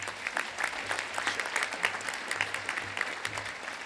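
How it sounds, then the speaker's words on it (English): Audience applause welcoming a presenter at a disaster preparedness workshop, a steady, moderately loud crowd clapping throughout with a faint low hum underneath. "please give a big warm round of applause"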